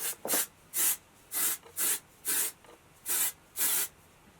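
Hairspray hisses from an aerosol can onto hair in eight short, evenly spaced bursts, close and fairly loud, with no talking.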